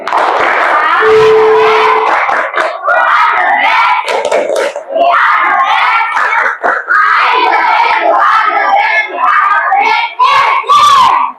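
A school class of children clapping and shouting a rhythmic group chant together, loud and continuous with excited voices throughout.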